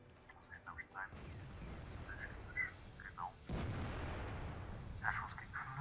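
A tank's main gun fires in the video game World of Tanks, a heavy boom breaking through quiet engine rumble and scattered game effects at a modest level.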